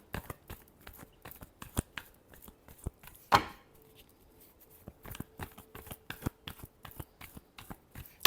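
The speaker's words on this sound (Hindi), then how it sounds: "Last shuffle." Tarot cards are shuffled by hand in quick, crisp riffling taps, a steady run of close, soft clicks with a louder snap partway through and no talking.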